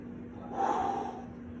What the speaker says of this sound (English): I breathe in